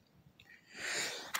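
A man outdoors lets out a single sneeze, a short breathy intake followed by a loud, hissing burst, close to the microphone.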